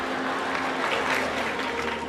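An audience at a lecture claps in a dense, steady burst of applause, loud and close, lasting a couple of seconds without a break.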